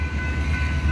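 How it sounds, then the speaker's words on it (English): A train on the line near a walking route in Newark, New Jersey, gives a steady low rumble and rolling rail noise, loud and continuous throughout with no voices. "down there by the train"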